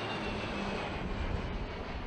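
Aircraft in formation approaching at the Iwakuni air base Friendship Day air show, a continuous broad engine roar filling the scene from start to finish without any clear speech.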